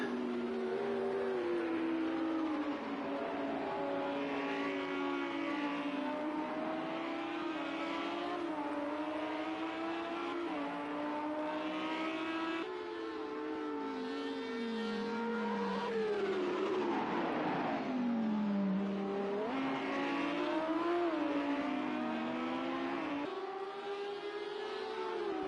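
A race car laps a circuit, its engine note rising and falling steadily through gear changes and corners, loud and continuous, with a high whine sweeping down as it brakes for a turn.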